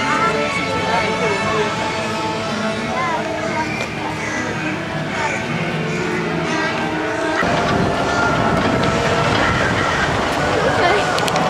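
An amusement park train ride at Busch Gardens Virginia rumbles and clatters steadily along the track, with people talking and calling out over the continuous rolling noise.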